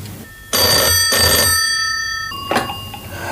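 A telephone in an office rings with loud, close, bright bell tones, two long rings followed by a shorter burst, and no one talks.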